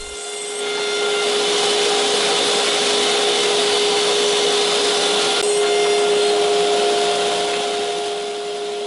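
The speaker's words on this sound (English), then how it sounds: "You'll notice each piece getting sucked into the box and hitting the filter there." A dust collection vacuum roars steadily, drawing small wood pieces from salvaged lumber into a catcher box with a filter, a loud sustained whoosh with a faint rattle of debris and a brief tick near the middle.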